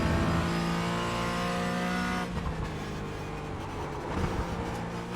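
Race car engine in the iRacing sim, a loud steady harmonic drone held at high revs that drops and roughens partway through as the car lifts and changes gear, with no one speaking.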